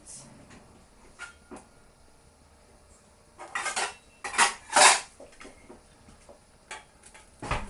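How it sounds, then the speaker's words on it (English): Metal cookware clatters and clinks, with a few louder bright clanks in the middle, like a lid set down on a pan. "I'm going to pop a lid on that."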